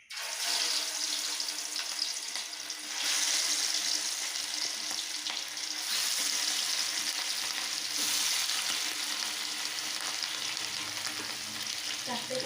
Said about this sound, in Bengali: তেল আমাদের গরম হয়ে এসেছে, এবার আমি একে একে রুই মাছের পিসগুলোকে ভেজে নেব।